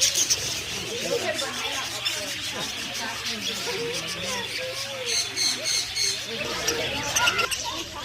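Birds at a waterfowl park chirp and call in a busy mix, steady and fairly close, with some handling noise and hum underneath.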